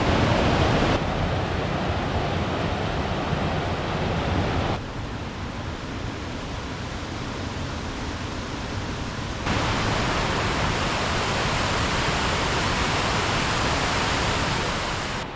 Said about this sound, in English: just behind me here is Tuscarora Falls